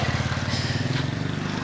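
A motorcycle engine runs with a close, steady throbbing putter on a rural lane where calves are shown, loud and continuous for the short moment it passes.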